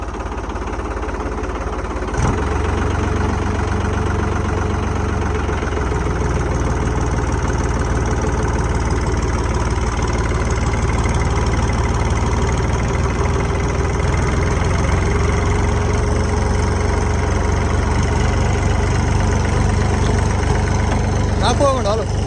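A machine used for cumin harvesting starts up about two seconds in, then its engine runs at a steady, loud, close idle for the rest of the time, with voices talking over it.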